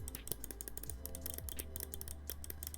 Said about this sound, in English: Those are the mouse clicks.